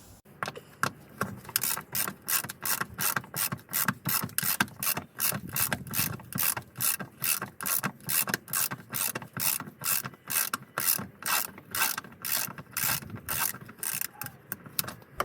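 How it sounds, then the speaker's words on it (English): A ratchet wrench undoing a 10mm bolt on a Toyota handbrake cable clamp, with a long run of quick, evenly spaced clicking strokes, close and fairly quiet, with no talk. "Again, it's a 10mm bolt to undo."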